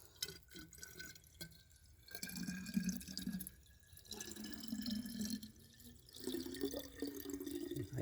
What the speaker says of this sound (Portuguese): Aí a gente enche a garrafa d'água.